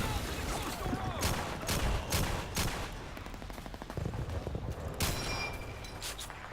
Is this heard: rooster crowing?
no